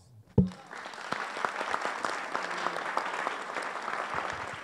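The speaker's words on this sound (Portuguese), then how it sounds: "Vamos bater palmas." An audience at a talk bursts into applause after a sharp opening thump, settling into steady, moderately loud clapping from a group that carries on evenly to the end.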